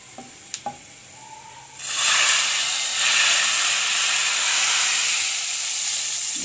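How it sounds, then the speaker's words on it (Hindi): Oil hisses and crackles loudly as garlic and cumin seeds drop into a hot pan for dal tempering, a steady bright sizzle following a few light clinks of a utensil. "जब लहसुन अच्छी तरह फ्राई हो जाए तो इसमें ज़ीरा डाल देंगे"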